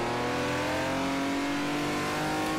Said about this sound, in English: That is one hell of an engine.